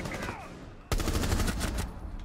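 Rapid gunfire in the Rainbow Six Siege beta Terrorist Hunt mode, a dense, loud burst of shots that starts abruptly about a second in and continues steadily.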